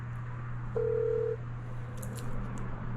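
A single steady electronic tone sounds briefly over a constant low hum, followed by faint clicks and quiet background noise, like a phone line being dialed.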